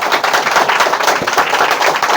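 Children in a classroom clapping for a brother and sister student, sharp uneven claps close and loud, crowded together in a rapid patter without talk.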